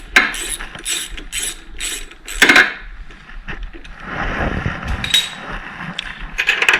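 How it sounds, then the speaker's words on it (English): A ratchet clicks in quick bursts while the bolts on a Honda HRX217 lawn mower are tightened during belt replacement, with rapid pawl ticks coming close and fairly loud, separated by short pauses and some metallic handling. "This one I was able to do with a ratchet."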